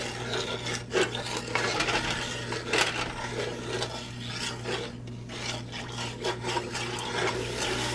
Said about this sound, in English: we're going to stir to dissolve this